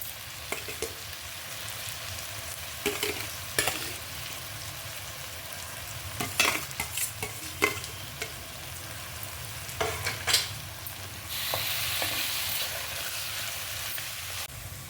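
Masala brinjal curry with tomato, green chilli and roasted mashed eggplant frying in a pan, a quiet sizzle under repeated scraping, tapping stirs of a spoon, then a louder hiss near the end.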